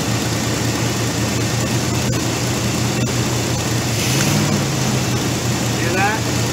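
A car engine idling steadily up close, its tone shifting slightly as the throttle position sensor is moved by hand without opening the throttle body and more fuel is fed in; a low continuous rumble fills the whole stretch.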